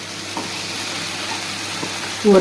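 Chicken pieces sizzle and fry in a hot kadai for curry leaf chicken, a soft steady crackle with a few faint stirring scrapes.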